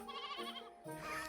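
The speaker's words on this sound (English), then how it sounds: "shepherds take care of sheep" Sheep bleating out in a field, two wavering bleats in quick succession, close and fairly loud with no talk over them.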